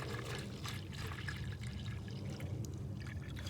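Liquid fertilizer, 32 ounces of it, pours steadily into a jug, a soft continuous trickle and splash over low background rumble, close and fairly quiet.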